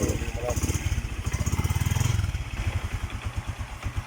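A restored Honda Wave125 motorcycle with a standard engine runs at close range, its pulsing exhaust beat steady and rhythmic, briefly louder in the middle, with someone talking over it.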